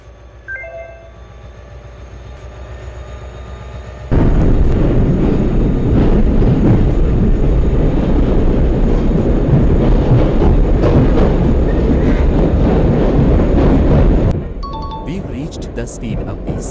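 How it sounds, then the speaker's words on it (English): Train in a realistic video game on a Kashmir rail route rolls along the track with a loud, steady rumble and clatter that starts abruptly and cuts back down after about ten seconds, with quieter ambient sound and beeps around it. "Can you drive the train at a constant speed of 20 km per hour?"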